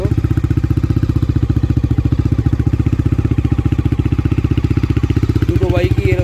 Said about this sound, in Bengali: এই আমাদের বাইক কোল্ড স্টার্ট দিয়ে রাখা হলো